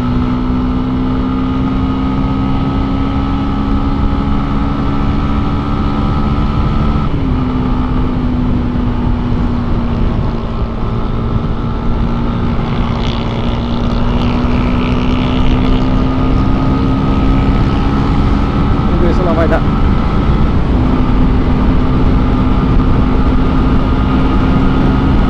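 Honda CB 250cc Twister motorcycle at top speed on a busy road, with a loud, steady engine drone holding a high pitch and rushing wind throughout, and one brief dip in revs partway through.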